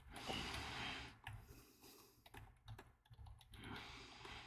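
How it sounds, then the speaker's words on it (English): Someone types a comment on a computer keyboard, a faint, close patter of irregular key clicks in short bursts with brief pauses and soft breathing between. "I was typing a comment."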